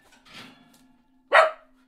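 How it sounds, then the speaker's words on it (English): A pet dog gives a single sharp, close bark after a softer muffled sound, in an otherwise quiet room. "Don't bark."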